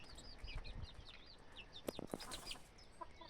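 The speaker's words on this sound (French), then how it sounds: "je pense que c'est un coq" Faint clucking and soft calls from chickens at a distance, with a couple of sharper knocks or bumps partway through.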